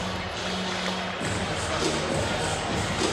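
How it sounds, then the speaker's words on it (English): A crowd at a college wrestling dual meet inside an arena roars and cheers loudly and steadily, swelling into a dense wall of sustained noise from many voices. "and the crowd erupts"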